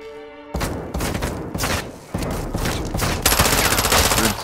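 Gunfire in the video game Call of Duty Modern Warfare 2, loud rapid bursts of automatic shots and sharp single cracks filling the scene, with no talk over it.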